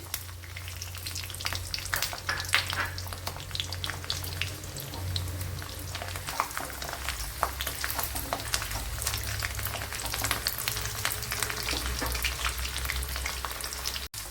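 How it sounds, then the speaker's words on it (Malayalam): Ginger and about fifteen cloves of garlic fry in hot oil in a pan, a steady close crackling sizzle with occasional sharper pops, continuous and unbroken with no talking. "ഇപ്പോഴിവിടെ വെളുത്തുള്ളിയും വഴണ്ട് വന്നിട്ടുണ്ട്"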